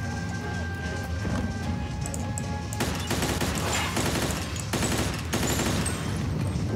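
Gunfire from a cover shootout in the video game Mafia II: dense bursts of automatic shots and crashes over a continuous loud din, rising into heavier volleys midway.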